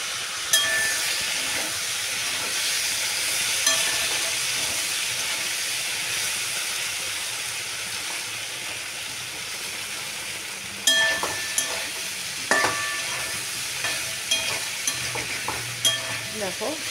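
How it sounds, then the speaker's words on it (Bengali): Vegetables fry in oil in a pan with a continuous hiss and sizzle, while a spatula scrapes and stirs through them, and sharp clinks of metal on the pan come toward the end; no speech. "এবার আমি ঢাকনাটা খুলে একটু নাড়ি চাড়ি দেবো।"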